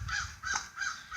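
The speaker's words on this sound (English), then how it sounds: "Sorry about all the noise with the crows." Crows cawing outdoors on a warm, windy fall day, several harsh calls repeating in a loose rhythm at moderate distance over a breezy background, no voices.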